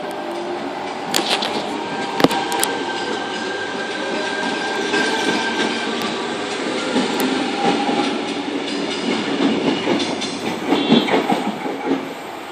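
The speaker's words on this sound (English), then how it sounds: "Tangara passing platform number 3." A Sydney Tangara electric train passes platform 3 at Tempe station, a loud close rush of wheels and rail clatter with sharp clicks and squeals that builds toward the end.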